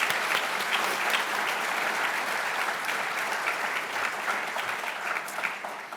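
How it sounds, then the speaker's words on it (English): Warm audience applause at an art event honoring the preparation team, dense continuous clapping from a sizable crowd, steady and full, easing slightly at the end. "I will take a pause for applause for the team"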